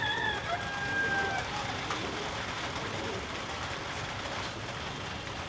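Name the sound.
heavy rain falling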